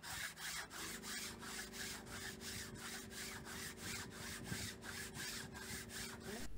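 A boat hull is sanded with sandpaper glued to a long flexible board, giving quiet, steady back-and-forth rasping strokes repeated rhythmically throughout.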